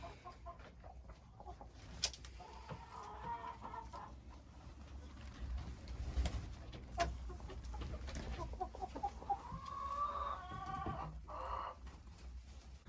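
Hens cluck and murmur softly inside a chicken coop on a wet, windy day, with scattered calls and a few louder squawks over a low rumbling background.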